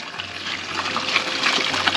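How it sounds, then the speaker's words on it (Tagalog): Running water flows continuously over soft drinks to keep them cold along a mountain road in Kalinga, a steady close trickle and splash with no talk. "So pinapadaluyan lang nila ng tubig."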